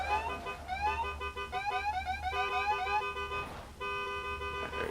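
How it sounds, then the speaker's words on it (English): Several car horns and electronic warning tones blare together at drag racing qualifying, overlapping, loud and continuous, with stepped and warbling pitches. "enough with the horns because I got to be able to hear his horn"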